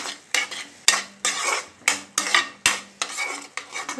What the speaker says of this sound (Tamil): நம்ம வெஜிடபிள்ஸ் சேர்த்தால் கொஞ்சம் நல்லது ஹெல்த்தியான ஃபுட் ஆயிரும் சேர்த்து நல்லா வதக்கிடலாம்